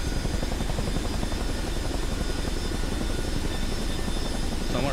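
A CH-47D Chinook tandem-rotor helicopter powering up in Microsoft Flight Simulator 2024, heard as a steady, loud, close turbine whine with a continuous rhythmic rotor thrum throughout, no speech.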